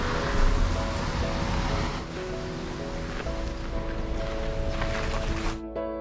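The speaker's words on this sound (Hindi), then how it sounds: "पानी जाता है यहाँ इस वाटरफॉल से।" A waterfall near Longding in Arunachal Pradesh pours into the Tisa river with a steady, loud rushing roar that continues throughout, dropping abruptly at the end.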